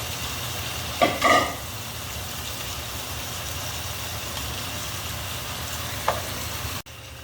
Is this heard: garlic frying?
yes